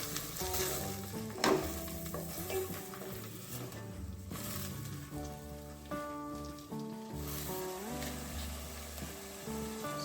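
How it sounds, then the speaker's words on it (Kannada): Chopped tomatoes sizzle and fry in oil with already-fried onions in a pan for an Andhra-style potato masala gravy, giving a steady crackling hiss that runs throughout, fairly close. "ಈಗ 2 ಟೊಮೆಟೊ ಕಟ್ ಮಾಡಿ ಇಟ್ಕೊಂಡಿದ್ದೀವಿ, ಅದನ್ನ ಹಾಕ್ಕೊಳ್ಳೋಣ. ಇದನ್ನು ಕೂಡ ಚೆನ್ನಾಗಿ ಫ್ರೈ ಮಾಡ್ಕೊಳ್ಳೋಣ."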